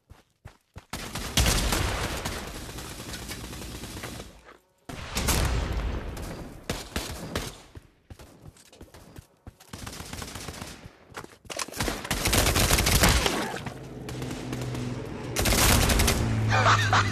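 A rifle in the video game Pavlov fires in several long, loud volleys of rapid shots, with short quiet gaps between bursts and low rumbling in the later stretches.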